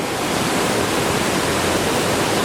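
Krakatau waterfall at Volcano Bay water park pours in a steady, loud broadband rush of falling water, unbroken and close, with no voices.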